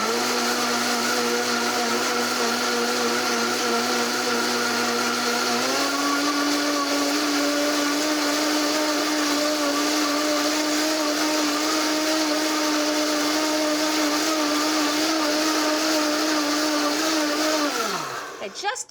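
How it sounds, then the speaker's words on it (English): A kitchen blender purees coconut milk, curry paste and herb stems into a steak marinade, its motor whirring loudly and steadily, jumping to a higher pitch partway through before winding down and stopping near the end. "So let's get that blended up."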